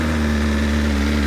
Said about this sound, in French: On va démarrer le moteur, bien évidemment, sinon c'est pas drôle.